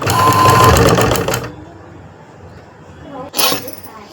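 A sewing machine stitches along the folded cloth edge of a bag, a loud, close, steady motor whir for about a second and a half, then fading to quiet before a short burst of running again.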